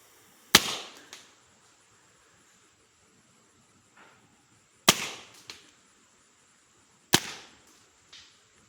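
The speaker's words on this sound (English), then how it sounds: "I see how weak that shot was because I didn't wait for the pressure to build up." A Pistelle X68 air rifle fired outdoors beside a creek: three sharp, close cracks spaced a few seconds apart, each followed by a quick fading echo, with quiet stretches between.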